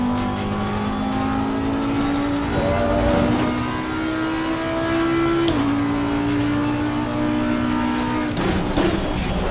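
Race car engine in the Assetto Corsa Competizione sim racing game, a Ferrari GT car droning loudly and steadily throughout, its pitch climbing through the gears with a shift near the middle and another rise toward the end.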